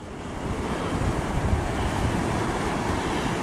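Ocean waves wash in on a beach shore while fishing for silverside, a steady loud surging rush with wind noise on the microphone, no voices heard.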